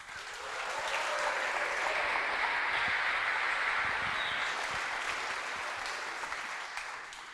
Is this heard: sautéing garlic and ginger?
no